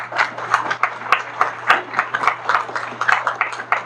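An audience applauds a King Charles III medal presentation, scattered hand claps popping irregularly over a low steady hum, moderately close and without speech.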